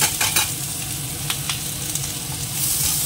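Chopped onion frying in hot oil in a pan, a steady broadband sizzle running throughout with a few brief stirring clicks, no voices.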